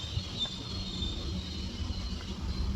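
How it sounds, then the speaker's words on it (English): A train rolls along a rickety track with a low rumbling rattle and faint high metallic wheel squeal, continuous and moderately distant throughout. "Train making all kind of noise"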